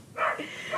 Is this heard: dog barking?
yes